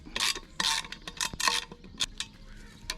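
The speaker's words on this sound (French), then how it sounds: "Du coup je peux serrer la biellette." Tightening the link rod on a Doppler ER1 moped exhaust pot, with a series of close, scraping and ratcheting metallic tool strokes in uneven bursts.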